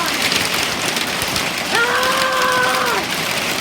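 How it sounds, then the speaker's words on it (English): A heavy hailstorm pounds down in a dense, continuous roar of impacts that stays loud and steady throughout, with a brief tonal whine rising above it in the middle. "It is hailing so hard."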